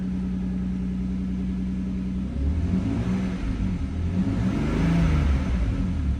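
A 1993 Toyota Supra engine started with the key, a steady idle tone giving way to a rougher, louder running rumble as it catches, close and continuous with no talk.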